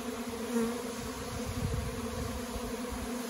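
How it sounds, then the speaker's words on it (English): A fall honeybee swarm hums in a steady, soft drone around pine limbs, many wings blending into a continuous buzz at a moderate distance. "Bees to my right, they're checking out limbs on a pine right here."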